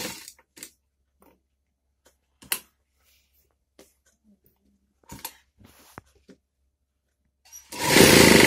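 A sewing machine stitching the lining of a chocolate-coloured blouse bursts into a loud, dense whir near the end, after a long quiet stretch of scattered handling clicks and taps.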